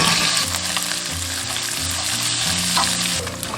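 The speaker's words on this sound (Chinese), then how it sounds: "锅中倒少许食用油，加入五花肉煸炒" Pork belly stir-fries in a little oil in a hot wok, a loud, continuous close sizzle with scraping stirring strokes throughout and no voices.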